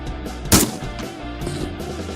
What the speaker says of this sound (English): You got to listen hard for that. It's a gunshot.